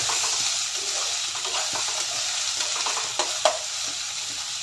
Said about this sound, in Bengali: সবজিগুলো নেড়ে ফেলে ভাজা ভাজা করে নিতে